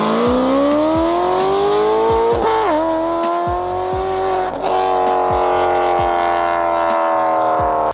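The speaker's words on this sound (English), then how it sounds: "But for that V8 engine and the exhaust note that it makes, there's no arguing how good that thing sounds." A V8 car engine with a throaty exhaust note revs hard and holds high, the pitch climbing and dipping between gear changes, loud and close with no talking.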